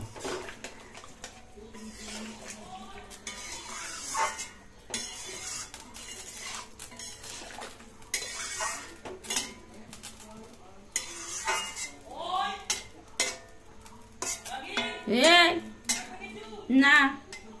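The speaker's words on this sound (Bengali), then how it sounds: "এখানে মা এখানে কাটা বেগুনগুলো এখন দিয়ে দিল" Cut eggplant added to a pan and stirred for an egg and brinjal curry: scraping and clattering of a spatula against the pan over a light sizzle, with bursts of louder clanks near the end and people talking throughout.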